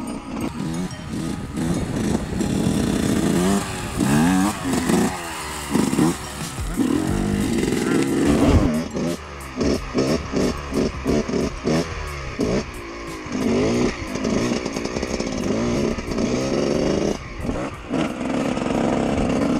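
A Yamaha YZ 125 two-stroke motocross bike is held in a wheelie, its engine revving up and down in sharp, choppy bursts at close range, loud and continuous throughout with rapid throttle blips in the later half.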